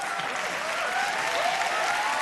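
A studio audience at a Hindi kids' TV show applauds loudly and steadily, dense clapping filling the whole stretch without pause.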